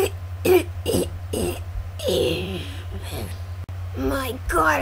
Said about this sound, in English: I think I just coughed up my lung